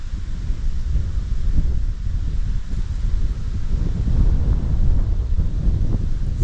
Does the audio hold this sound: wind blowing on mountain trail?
yes